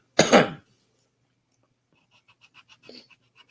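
A single harsh cough bursts out close to the microphone, followed by quiet breathing and faint small noises.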